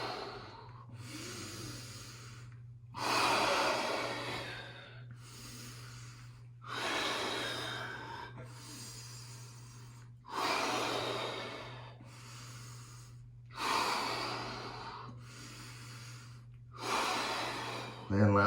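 Slow, deep yoga breaths taken during a floor-based core routine, with long airy inhales and exhales recurring about every three to four seconds, close and fairly loud over a steady low hum.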